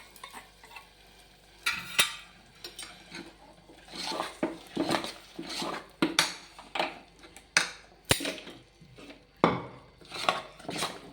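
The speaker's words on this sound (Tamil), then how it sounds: "முந்திரி திராட்சை நெய்யில் வறுத்தாச்சு பாருங்க. நெய்யில் வறுத்தாச்சு. நம்ம அதை கொட்டிக்கலாம்." Ghee-fried cashews and raisins are tipped into a pot of cooked rice, with scraping, stirring and metal clinks from the spoon against the pot in an irregular series of soft clatters, and no talk.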